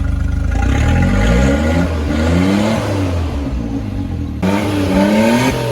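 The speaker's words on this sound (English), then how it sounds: "Rev it." A Suzuki Jimny with a short, wide tailpipe revs hard, the engine climbing and falling in repeated swells and holding a loud, close, throaty drone throughout.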